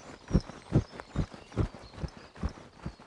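Steady clip-clop of a horse's hooves walking through a circular volte in a riding arena, roughly two to three footfalls per second, close and clear with no talking.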